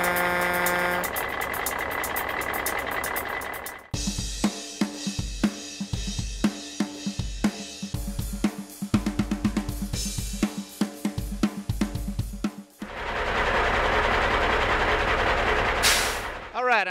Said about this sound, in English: this is a 2007 Vactor jetter truck